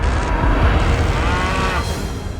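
A farmer's carabao (water buffalo) in the Philippines lets out a single loud, drawn-out moo close by, a low droning call lasting a couple of seconds.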